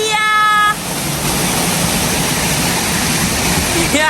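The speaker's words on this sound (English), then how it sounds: "That is the waterfall we are heading to." Napuru waterfall near Arusha, Tanzania roars as a steady broadband rush of falling water, loud and constant throughout, with a short tonal whine near the start.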